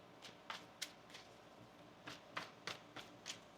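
A deck of tarot cards is shuffled close by in quick, papery riffles and slaps, roughly a dozen soft bursts in an uneven rhythm against a quiet background.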